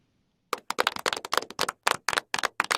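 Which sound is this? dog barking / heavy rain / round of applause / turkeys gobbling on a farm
round of applause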